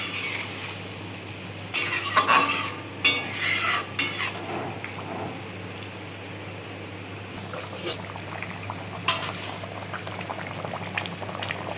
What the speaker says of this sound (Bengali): আমি একটু গরম জলই দিই সব।